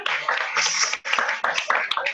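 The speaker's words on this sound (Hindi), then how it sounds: "जी, एक बार जोरदार तालियां मानसी जी के लिए," A brief burst of audience clapping at a seminar on the four anuyogas at Swadhyay Bhavan, Usmanpur, a moderately loud, dense patter of many hands with a short dip midway.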